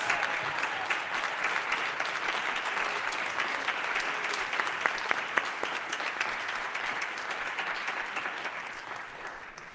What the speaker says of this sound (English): Strong round of applause for Zondo.